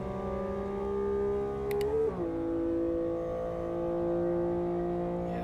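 A race car in Assetto Corsa holds a steady high engine whine, briefly dips as it shifts gear, then settles back into a sustained drone, heard alone at moderate volume.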